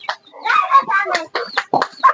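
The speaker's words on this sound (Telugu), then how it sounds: "పుంజులు కోళ్ళు బాగున్నాయండి" Roosters and hens in a tribal village coop cluck close and loud in a quick series of short, choppy calls.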